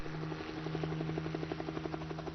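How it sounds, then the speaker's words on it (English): A helicopter close by in the visual novel game Steins;Gate 0, its rotor thumping in a steady rapid rhythm over a low engine hum, alone and fairly loud. "She could hear a helicopter. It was close."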